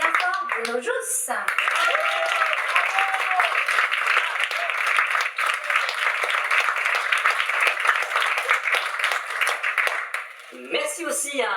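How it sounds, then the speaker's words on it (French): A theatre audience applauding a play's cast, a long sustained burst of dense clapping that carries on for about ten seconds, with brief speech from a host at the start and end. "Applaudissements bien fort, Bruno Jousse."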